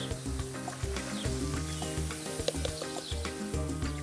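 Butter and freshly cut corn kernels sizzle steadily in a pan on an outdoor grill for a summer cookout side, a continuous close frying hiss with occasional louder pops and crackles throughout.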